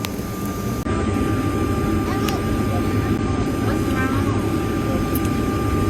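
A private jet's engines give a steady, loud, close cabin drone that runs throughout, with people talking over it.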